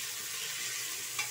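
Onions sautéing with salt in a pan for a potato kurma, giving a steady soft sizzle with faint stirring and one brief scrape near the end, no voices.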